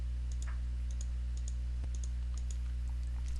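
Computer mouse clicks while deleting rooms in the Mud Designer Toolkit software: a string of faint, sharp ticks spread irregularly over a steady low hum, with no talking.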